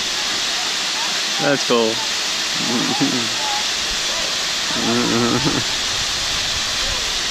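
Ricketts Glen waterfall roars as a steady, loud wash of falling water heard from close by, with brief voices talking over it.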